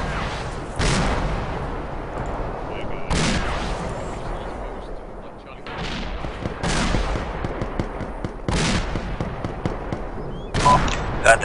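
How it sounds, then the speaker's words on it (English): Heavy howitzer artillery firing in Arma 2 on the Takistan map: a string of loud, booming impacts several seconds apart, each with a rolling tail, over constant battlefield rumble and scattered smaller gunfire. "That's almost certainly the howitzer. That's some heavy artillery."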